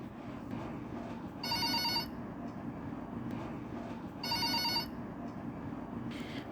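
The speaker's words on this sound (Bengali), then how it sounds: "ফোনটা বেজেই চলেছে।" A telephone rings in two distinct bursts of bright electronic trilling, each about half a second long and spaced a few seconds apart, over a low rumbling background with a faint third ring near the end.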